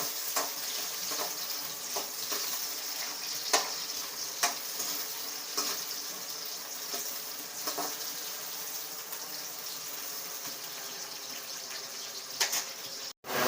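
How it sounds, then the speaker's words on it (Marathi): Onion frying in a little oil until reddish, a steady close sizzle with soft stirring and scraping clicks throughout, no talk. "चांगलं असं लाल होईपर्यंत तळून घ्यायचं आहे बघा असं तळून घ्यायचं"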